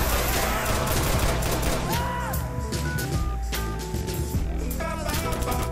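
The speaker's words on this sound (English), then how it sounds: "I can hear, like, gunshots" Dense, rapid gunfire from the video game Watch Dogs, with overlapping bursts running throughout and tonal game sounds layered on top.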